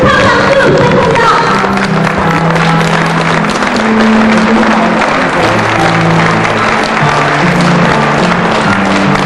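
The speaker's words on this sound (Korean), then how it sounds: "축하 박수 부탁합니다." Congratulatory applause at a Korean labour federation memorial ceremony, loud and steady for the whole stretch, with a low murmur of voices and tonal sound beneath the clapping.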